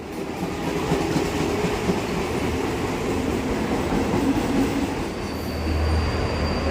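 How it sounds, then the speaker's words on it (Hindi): A train pulls into Marine Lines station in Mumbai with a steady, close rumble and wheel clatter, and a thin metallic squeal rises toward the end. "हम लोग आए हैं ट्रेन से और हम लोग उतर गए मरीन लाइन स्टेशन"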